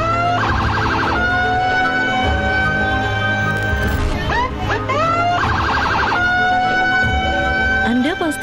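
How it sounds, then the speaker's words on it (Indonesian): A road vehicle's strobe siren blares the "tot tot wuk wuk" pattern, loud and close, alternating rapid warbling bursts with rising and falling whoops. "suara sirene atau strobo ini menuai protes dari banyak warga"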